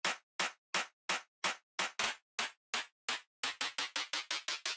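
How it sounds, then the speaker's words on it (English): A drum and bass build-up clap sample with pitch automation repeats as sharp, dry hits, spaced evenly at first and then coming faster and closer together, with nothing else playing. "It's a simple clap with the pitch automation."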